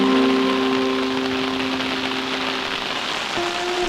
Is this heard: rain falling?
yes